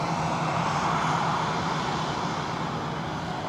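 An EasyJet Europe airliner at Edinburgh Airport gives a steady, fairly loud engine roar that holds evenly throughout, with no voices.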